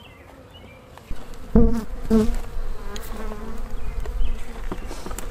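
Honeybees swarm and hum around an open hive during a hive split, a steady close buzz with brief voices talking over it.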